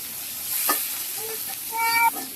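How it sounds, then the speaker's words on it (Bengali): Kalsa fish frying in a pan, a steady close sizzle with a soft hiss, a brief clink and a faint voice in the background. "তো এই পাশে যে মা কলসা মাছ ভেজে নিতেছে।"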